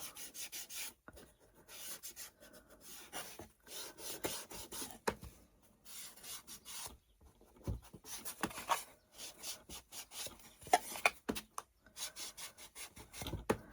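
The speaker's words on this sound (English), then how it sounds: "I'm just going to take the Distress Ink and Walnut and go around the edges." Distress Ink in Walnut is rubbed around the edges of a wooden banner, giving faint dry scratchy rubbing strokes in irregular bursts with brief pauses, close and quiet.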